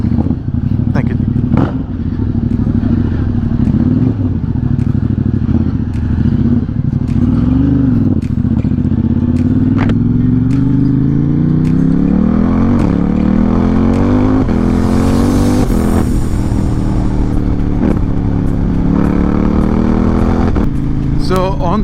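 A Kawasaki Versys 1000 motorcycle cruises loudly on a highway, engine droning and rising in pitch as it accelerates, with heavy wind rush throughout and a rider talking over it.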